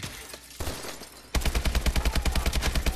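Rapid automatic gunfire from Call of Duty: Advanced Warfare on PS4. A brief burst rings out, then loud, sustained machine-gun fire rattles in a fast, even rhythm until the end.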